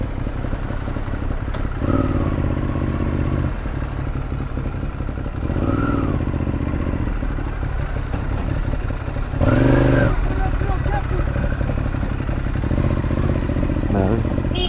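Motorcycles and scooters rev and pass by in several separate bursts, loud and close, with voices talking in between.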